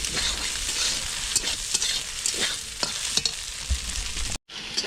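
Snake gourd with egg fries with a loud, continuous sizzle in a pan while a spatula scrapes and stirs in repeated strokes, then the sound cuts out briefly near the end.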